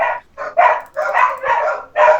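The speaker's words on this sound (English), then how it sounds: "Bark." A dog barks in a quick run of five or so sharp, close barks with brief gaps between them, loud and with no other sound around it.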